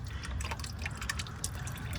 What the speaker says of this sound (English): let most of the oil out so it doesn't pour all down my arm